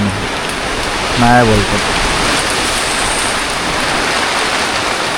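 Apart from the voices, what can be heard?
heavy rain falling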